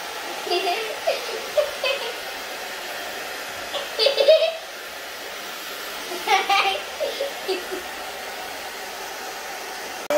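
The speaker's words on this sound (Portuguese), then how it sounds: "Agora a gente vai secar ele." A hair dryer runs steadily throughout while a dog is dried after its bath, a constant close whir with children talking and giggling over it in short bursts.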